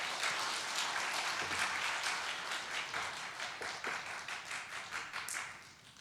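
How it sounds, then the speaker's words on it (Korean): A church congregation at a Friday prayer service claps and applauds to welcome a preacher, a steady, dense round of clapping that slowly thins and fades toward the end. "큰 박수로 환영해 주십시오."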